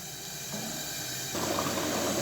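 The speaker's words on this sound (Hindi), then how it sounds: "ये माशाल्लाह बॉयल हो रहा है" Chickpea curry (chaney ka salan) boiling in a pot, a steady bubbling simmer that grows louder and busier partway through.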